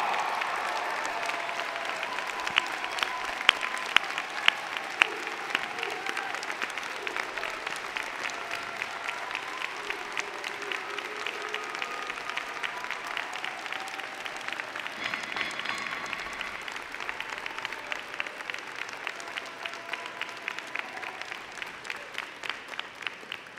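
A large audience at a university convocation ceremony applauds the graduating class, a long, even wash of clapping filling the hall, with a few sharper claps standing out early on.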